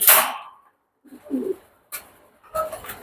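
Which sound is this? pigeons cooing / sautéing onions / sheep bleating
pigeons cooing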